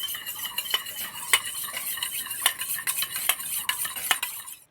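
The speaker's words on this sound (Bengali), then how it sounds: "দইটা ভালো করে ফেটে নেব" A cup of sour yogurt whisked in a bowl: quick rhythmic scraping and clinking strokes of a utensil against the bowl, close and steady, with no voices.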